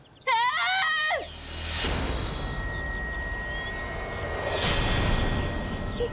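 A woman's high, wavering scream rings out briefly at the start, followed by sustained noisy rumble and whooshing background sound.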